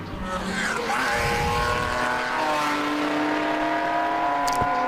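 Race car number 911 in a Group S sports car event roars past on the circuit, its engine note rising and sweeping by close and loud, with a faint tire squeal near the end.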